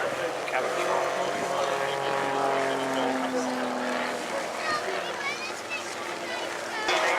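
A Grob Tutor light aircraft flies a Royal Air Force display at the Duxford Battle of Britain Airshow, its propeller drone steady and moderately distant, rising and falling in pitch under an announcer's voice.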